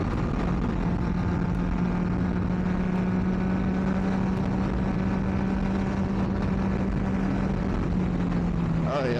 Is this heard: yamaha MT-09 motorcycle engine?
yes